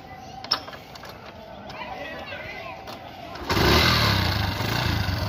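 A used Bajaj Discover 100cc motorcycle starts up: after faint background chatter and clicks, the engine catches about midway and settles into a loud, steady running drone close by.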